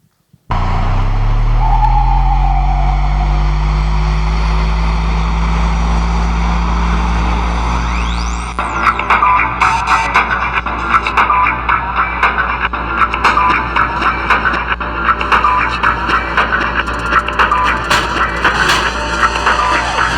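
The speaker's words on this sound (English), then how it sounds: "this is when the car is driving through the art parade in Soho" A car drives through an art parade in Soho, its steady engine drone rising slowly in pitch, then joined partway through by a dense clatter of crowd and street noise, continuous and loud throughout.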